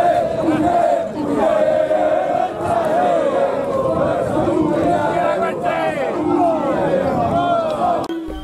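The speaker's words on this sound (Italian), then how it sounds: "Due tifoserie degne di ben altri palcoscenici danno vita ad un'altra partita, con slogan e cori che dureranno per tutti i 90 minuti." Football supporters from two rival groups chant slogans and sing songs in the stands at an amateur Italian match, a dense, continuous crowd roar with rising and falling sung phrases throughout.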